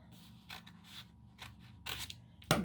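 Scissors snipping paper for a collage, a handful of short, quiet crisp cuts spaced irregularly over a low steady background hum, ending in a louder rustle.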